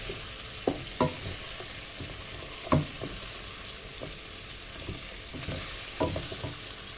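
Peppers and other kabsa ingredients sizzle steadily in a hot pan, with scattered scraping knocks from stirring breaking through the continuous frying hiss.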